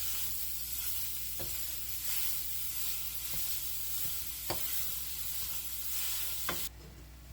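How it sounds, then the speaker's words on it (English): Pork browns in a pot in a one-pot dish with spices, giving a steady soft sizzle throughout, with a few sharp clicks of stirring utensils. "Okay, so now we're gonna brown the pork."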